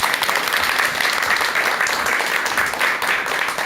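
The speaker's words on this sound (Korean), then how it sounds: "큰 박수로 강의 청해 듣도록 하겠습니다" A lecture hall audience gives a loud, sustained round of applause, dense and even throughout with no gaps, welcoming a psychiatrist's talk on relationships.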